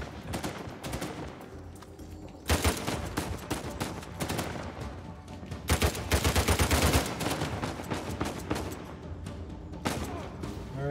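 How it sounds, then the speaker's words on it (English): Video-game gunfire aimed at the player in Libertalia: rapid, loud bursts of automatic shots in several clusters, with sharp peaks near and a busy background between volleys. "Shooting at me."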